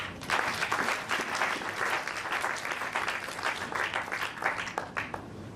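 A church congregation bursts into sustained, dense applause, loud and steady throughout with a thick wash of clapping hands.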